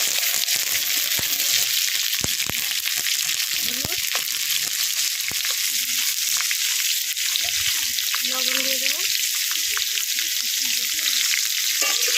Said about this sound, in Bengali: প্রথমে চিংড়ি মাছগুলো ভাজার জন্য কড়াইতে তেল দিয়ে দিচ্ছি